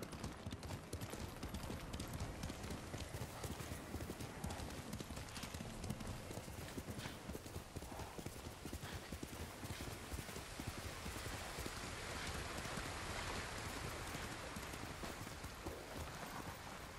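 Horse hooves clip-clopping steadily through light rain in the Ghost of Tsushima video game, a dense continuous patter of hoofbeats and rainfall lasting throughout with no one speaking.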